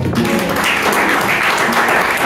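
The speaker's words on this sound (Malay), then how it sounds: "Beri tepukan kepada semua" Steady applause from an audience at a school teachers' club and staff year-end dinner, dense continuous clapping close and loud for the whole moment with no talk over it.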